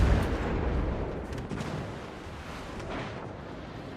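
Naval gunfire booms out in the World of Warships game, a heavy rumbling blast at the start that fades into a dull, rolling battle din.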